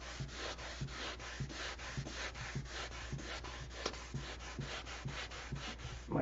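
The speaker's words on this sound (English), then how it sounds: "if you want an outstanding finish, this is where it's at, sanding." Wood being hand-sanded for a smooth finish, a steady rhythm of close, soft scratchy strokes repeating about every half second, alone without voices.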